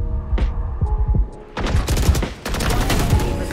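Rapid bursts of gunfire in the Valorant shooter game, sharp repeated cracks in quick clusters, loud and close, separated by brief pauses with faint low talk early on.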